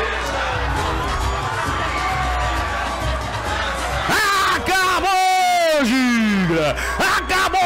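Crowd at an under-17 football match in Brazil cheering after the final whistle: a loud continuous roar of shouting voices with whoops and high yells, while a commentator speaks excitedly over it.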